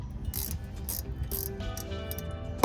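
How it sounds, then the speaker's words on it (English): A ratchet undoing a 13mm bolt on the thermostat housing of a 6L80 transmission: rapid mechanical clicking in short bursts, close up, with a faint hum in the background and no talk. "then we can undo the 13mm bolt and take off the complete housing"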